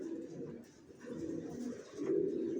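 Racing pigeon squabs cooing in a steady, low, continuous murmur close by, with a few overlapping coos and no talk.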